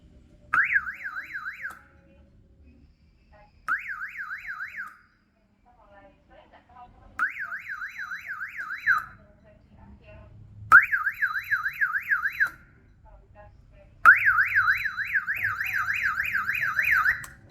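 An electronic alarm for a closed chicken house, with a buzzer and a horn loudspeaker, sounds in five bursts of a fast warbling siren tone. The later bursts run longer and louder over a low hum, with short silences between them.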